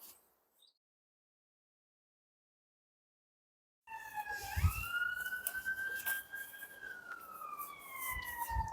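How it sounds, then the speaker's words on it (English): After a few seconds of near silence, a police siren begins wailing, rising then holding a long sweeping tone, fairly loud and continuous through the end. "That's a siren."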